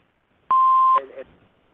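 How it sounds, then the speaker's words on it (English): A single clear electronic answering machine beep lasts about half a second, with a short garbled tail of line noise after it. "Please leave your name and phone number after the beep."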